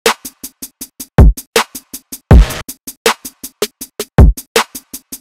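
A programmed hip-hop drum loop from a Drum Monkey plugin's drums preset: crisp, steady rapid hi-hat or clap hits with occasional heavy booming kicks, played alone and clean.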